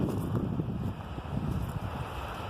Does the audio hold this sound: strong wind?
yes